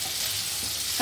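Red chili, coriander powder and cumin powder sizzle in hot oil for a paneer do pyaza, a continuous hiss that ends in a brief stirring clatter.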